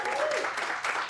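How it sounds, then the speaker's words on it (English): Applause greets Mark Tilling at a Christmas gathering, a brief burst of steady clapping that stays fairly loud throughout, with a faint voice tone running underneath. "a big applause for Mr."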